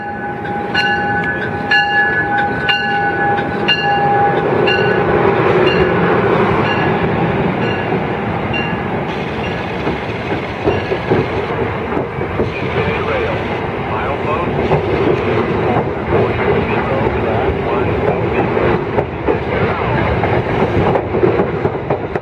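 A North Jersey Coast Line commuter train of retired Comet 3 cars and a Comet 5 cab car rolls past at Woodbridge, New Jersey, with a sustained rumble and rhythmic wheel clatter, a horn sounding briefly near the start, steady and fairly close throughout.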